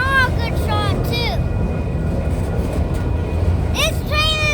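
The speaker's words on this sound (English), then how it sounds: "This train is gonna be a long train, folks." A long train passes close by, a loud continuous rumble and rattle of rail cars filling the whole stretch, with people talking over it.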